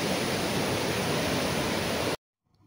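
Heavy surf from sea waves at high tide on a rocky fishing shore, a loud, steady broadband roar that cuts off abruptly near the end, leaving near silence.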